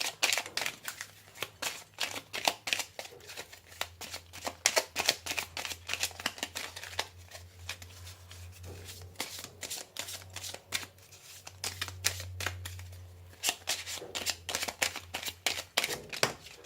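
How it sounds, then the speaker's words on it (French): Tarot cards are shuffled close up in quick, crisp riffles and flicks, rapid papery bursts that come in waves with short pauses between them, over a low steady hum. "je vais mélanger un peu plus"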